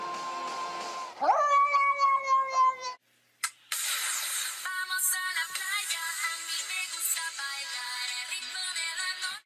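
A house cat meows repeatedly, with clear drawn-out tonal cries followed by a brief pause and then a busier stretch of layered, bright sound.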